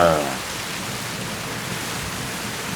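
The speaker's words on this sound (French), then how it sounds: "L'orage est incroyable." Heavy thunderstorm rain in the Basque Country, a dense steady hiss of downpour that stays even throughout, with a brief faint voice at the very start.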